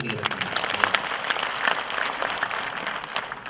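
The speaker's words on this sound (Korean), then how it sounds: "다시 한번 박수 좀 부탁드리겠습니다" Audience applause at a community meeting with residents about relocating the Daegu military and civilian airport, crisp clapping from a room of people at moderate level, tapering slightly toward the end.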